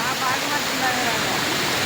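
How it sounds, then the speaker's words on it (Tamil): Water pours steadily over a waterfall in a continuous, loud, close rushing roar with no break. "அப்படியே தண்ணி செம ரவுண்டாக ஊற்றுது"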